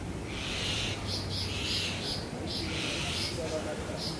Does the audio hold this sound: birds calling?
yes